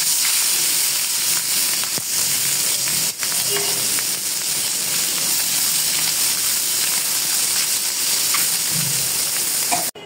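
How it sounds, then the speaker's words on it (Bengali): Oil sizzling steadily in a pan as tengra fish fries for a bean and fish curry, a loud continuous crackling hiss with brief utensil knocks, no talking. "মাছ ভাজার জন্য তেল দিয়ে দিলাম।"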